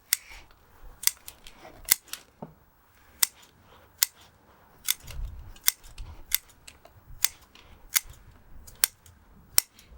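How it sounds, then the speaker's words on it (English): Bonsai tree roots being trimmed with scissors during repotting: a series of sharp, close snips at an irregular rhythm, one or two per second, with quiet rustling between. "you start cutting the roots roughly to the same length"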